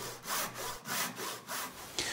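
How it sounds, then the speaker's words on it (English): Hand saw cutting the cheeks of a wooden tenon in steady back-and-forth strokes, about seven rasping pulls close up with brief pauses between them. "Then I finish by sawing out the cheeks."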